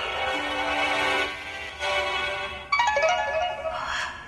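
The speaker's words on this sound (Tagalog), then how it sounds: "Si Winson nag-text" A phone text message notification tone chimes in short rising electronic notes near the end, following a steady background music bed, clear and close.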